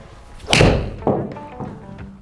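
Elastic, springy thuds imitate a strike from a Callaway APEX DCB golf iron. One strong, close thump is followed by a second hit and then a couple of fainter, trailing knocks.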